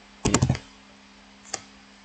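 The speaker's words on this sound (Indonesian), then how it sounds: "dengan mengetik" A brief run of four or five quick keystrokes on a computer keyboard, close and crisp, then one lone tap after a pause, with no talk.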